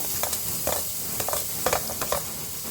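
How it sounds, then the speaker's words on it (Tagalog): Garlic sizzling in melting butter in a pan, a steady crackle with several quick spoon stirs and scrapes spaced through it, close by. "Habang natutunaw ang butter, lalagyan na natin ng bawang,"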